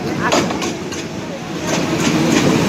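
A train slowing to stop at Begunbari railway station rumbles along with a steady mechanical roar and rhythmic clacking of wheels, loud and close, while people talk faintly underneath.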